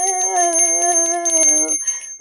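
A bell ringing with a sustained bright metallic tone, struck once more partway through and then fading out, close and loud with no speech.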